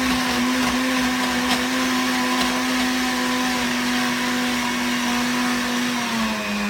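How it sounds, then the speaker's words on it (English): A blender runs at full speed blending a kale smoothie, a loud, steady whirring drone with a constant motor pitch that dips slightly near the end. "And then I'm going to put it in the blender here"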